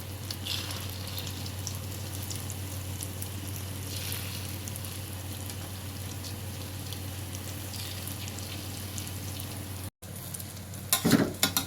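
Steady sizzling of a vegetable omelette frying in hot oil in a pan continues throughout, with a brief break and some clattering near the end.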